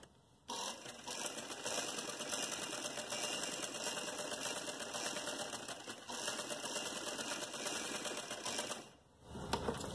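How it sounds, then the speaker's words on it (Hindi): A sewing machine stitching the sleeve of a frock whirs in a dense, continuous run for about nine seconds with a busy rattling texture, then briefly cuts out before starting again. "दूसरी स्लीव्स को फिटिंग की सिलाई लगा रही हूं मैं।"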